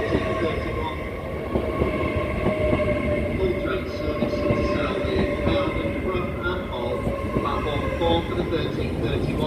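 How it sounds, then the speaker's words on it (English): A five-car Hull Trains class 802 Paragon, switching to diesel power at Doncaster station, rumbles and clatters steadily along the platform, with a voice audible over the continuous rail noise. "It's a Hull Trains Paragon service."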